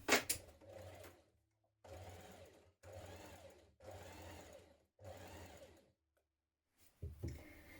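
A sewing machine edge-stitches a shirt in five even runs of about a second each with short pauses between them, close and clear, with a brief clatter at the start and end and no talking.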